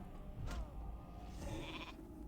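Sheep bleat from a polymorph spell in the World of Warcraft video game, two short nasal bleats close together over quiet game background.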